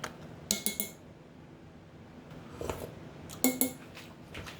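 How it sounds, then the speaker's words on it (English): A spoon clinks against the inside of a cup of hot drink. A few sharp metallic taps come in short clusters with quiet gaps between them, close and fairly soft. "Give it a little stir."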